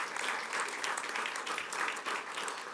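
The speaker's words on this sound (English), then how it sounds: "Let's give them a round of applause." Sustained applause from a school board meeting audience greets a 3% salary adjustment, a steady, even wash of many hands clapping at moderate distance with no talk over it.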